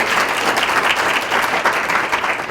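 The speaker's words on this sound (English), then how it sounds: "if you could give them both a round of applause" An audience at a school board presentation gives a loud, close, continuous round of applause, a thick even wash of many hands clapping without any talk.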